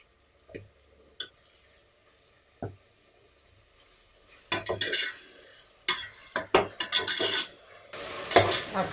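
Tomatoes are sautéed in a pan for vegetable biryani: a spoon scrapes and clinks against the metal, with sparse taps at first and then busier, quicker stirring. No one speaks.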